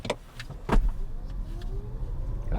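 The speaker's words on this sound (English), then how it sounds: "I'm gonna go ahead and do a quick 0 to 60." A 2023 Subaru Solterra Touring electric SUV with standard all-wheel drive pulls away hard in power mode, a faint rising electric whine beneath cabin thumps and a few sharp clicks.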